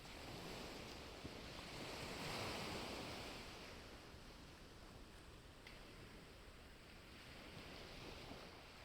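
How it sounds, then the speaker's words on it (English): Ocean waves washing onto the sand of a sheltered beach cove, a steady broad wash that swells gently and then eases, heard alone without any voices. "The waves are so relaxing, peaceful and rhythmic."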